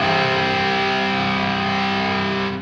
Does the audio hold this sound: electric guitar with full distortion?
yes